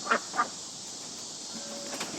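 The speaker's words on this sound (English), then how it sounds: "the ducks that you hear all the time in the background" Pet ducks quacking outdoors in a neighborhood setting: two short, fairly loud quacks in quick succession at the start, then only faint background calls over quiet ambient hiss.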